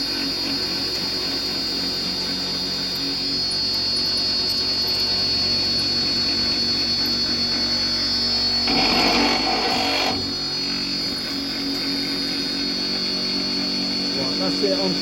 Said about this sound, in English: start the lathe